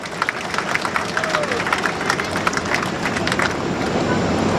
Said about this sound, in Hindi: मैं आप सबसे आग्रह करूंगा कि जोरदार तालियों से श्री बसंत जी और अभय जी का स्वागत करें।